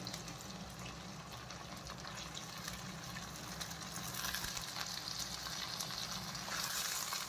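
Desi chicken pieces dropped into hot oil in a pan, giving a steady, dense sizzle and crackle that swells slightly louder toward the end, with no voices.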